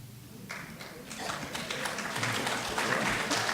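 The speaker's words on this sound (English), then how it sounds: "Why are y'all clapping for that?" Applause from a forum panel audience builds from scattered claps into steady, dense clapping, with a low murmur of voices underneath.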